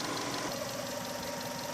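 A warmed-up Subaru engine idles at operating temperature, a low steady rumble with a faint rhythmic knock and even vibration, no voices.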